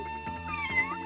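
Cat meowing in the SNES game The Addams Family: Pugsley's Scavenger Hunt, a short synthesized wavering meow with a sliding pitch over a looping chiptune background, no talking.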